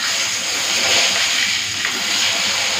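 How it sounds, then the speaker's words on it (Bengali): Salted, turmeric-coated chanda fish fry one at a time in hot mustard oil in an iron wok. The result is a close, steady hiss of frying with no talking. "এক একটা করে মাছ ভেজে নেব।"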